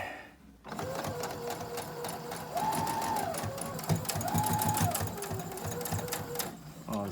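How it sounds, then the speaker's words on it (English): A sewing machine stitches fabric for a homemade face mask, making a close, steady mechanical whir with a rapid needle chatter that runs nearly continuously after a brief quiet start. "And now I'm stitching this. Okay, I'm stitching this."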